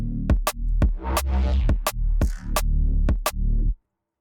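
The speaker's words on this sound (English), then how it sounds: "on beats 1 and the and of 3 is the kick, and then the snare is on 2 and 4" Drum and bass drum pattern programmed in Ableton, with kicks and snares hitting sharply and cleanly in a syncopated groove, then stopping abruptly.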